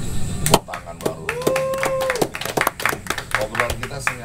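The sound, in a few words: people clapping hands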